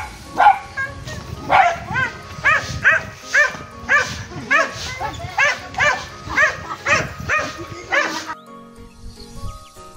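A group of dogs bark steadily on a farm after rain, a rapid, insistent run of overlapping barks that then stops abruptly, leaving quiet.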